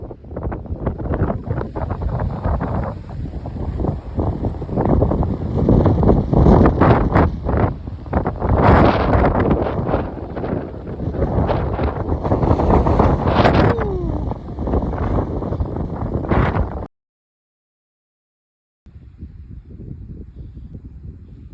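Heavy wind buffets the microphone in loud, rumbling gusts for a long stretch, cuts out briefly, then returns somewhat softer.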